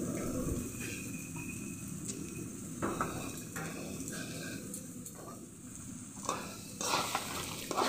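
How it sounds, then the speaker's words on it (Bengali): Mixed vegetables frying in a pan on a low gas flame, a continuous sizzle with repeated scraping and stirring clatter of a utensil against the pan, close and steady throughout. "এখন অনেক কিছু নিয়ে একটি সবজি ভাজি করছি।"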